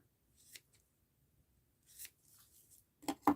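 Scissors snipping through a yarn tassel loop, a few quiet, crisp clicks spaced apart, ending with two louder close cuts.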